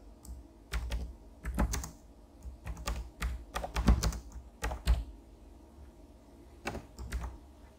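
Rapid keystrokes on a computer keyboard, entered as an app name in an app-builder, tapping in quick irregular bursts with short pauses, close and clear with no speech.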